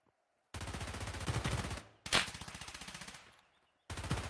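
Automatic rifle fire in Escape from Tarkov during a tournament match, loud rapid bursts of repeated shots in two long strings and a third starting at the end, separated by a short gap and a decaying echo.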